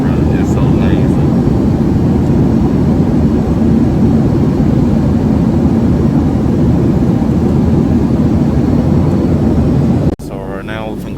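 Loud, steady roar of airplane cabin noise during landing drones on unchanged, then cuts abruptly to a quieter hum near the end.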